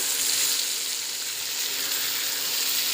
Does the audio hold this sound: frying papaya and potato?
yes